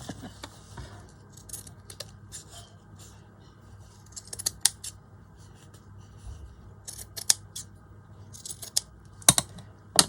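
Close scissors trimming fabric for a lace-trimmed pouch made from leftover snippet-roll fabric, with a series of crisp, irregular snips and cuts alone, with no talk.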